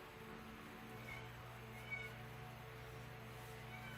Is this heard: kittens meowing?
yes